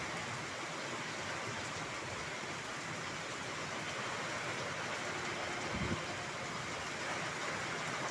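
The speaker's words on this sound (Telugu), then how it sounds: "వాన వస్తుంది కదా." Steady rain falls outdoors near a temple, a dense continuous hiss running the whole time with no pauses and no voices.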